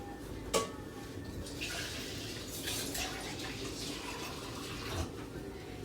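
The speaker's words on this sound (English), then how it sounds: "just to pour some water in the pan, and we're just going to let that cook." Water poured into a pan holding a block of frozen ground chicken, a steady close splashing fill over several seconds with a faint clink of the pan at the start.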